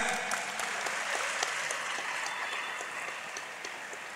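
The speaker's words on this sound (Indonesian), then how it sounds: "Sekali lagi aplaus buat yang mulia." An audience in a lecture hall at a university public lecture claps together in a dense burst of applause that slowly thins and fades over a few seconds.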